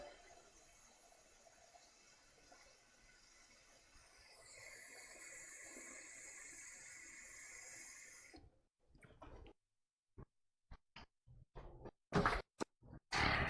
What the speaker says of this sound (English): I'm just filling up some water.